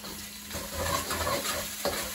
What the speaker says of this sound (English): cook the garlic and ginger for about 5 seconds